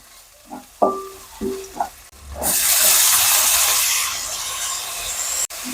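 A few soft clinks, then a loud burst of sizzling as tomatoes go into a hot pan of frying ghee, steady crackling hiss that tapers slightly, close up and without talk.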